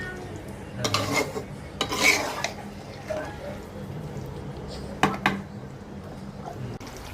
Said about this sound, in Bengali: ভালো করে ভাজা ভাজা করে কষাবো